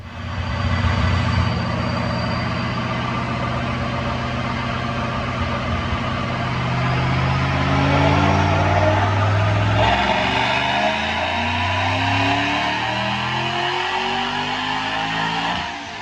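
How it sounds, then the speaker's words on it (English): A supercharged 2009 Ford Mustang with a Paxton Novi 1200 blower makes a dyno pull on a DynoJet, its loud engine drone climbing steadily in pitch as revs build, heard alone. "Check out this dyno pull."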